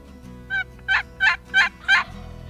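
A wild turkey gobbles at close range, with one shorter call followed by four loud rattling gobbles in a rapid, evenly spaced series over a quiet outdoor background.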